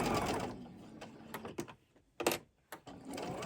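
Sewing machine stitching a felt heart project, running in short bursts of quick rattling stitches separated by pauses, fairly close and quiet, no talking.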